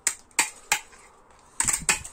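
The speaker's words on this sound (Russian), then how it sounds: "Буду резать при помощи обычных ножниц по металлу," Ordinary metal shears snipping acrylic plexiglass scraps into thin strips, giving sharp crisp clicks, three spaced single cuts followed by a quicker cluster of snips, close and clear with no talk.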